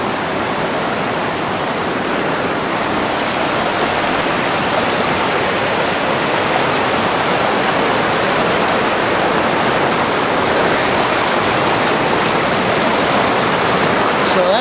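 A river at high water rushes loudly and steadily beside a gold sluice set up on a winter bank in California, a dense unbroken roar of churning water filling the whole stretch.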